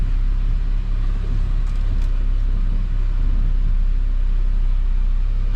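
A Saab 9-5 with new subframe bushings drives through a neighborhood, its steady low road rumble and engine drone continuous and close throughout, with no talk.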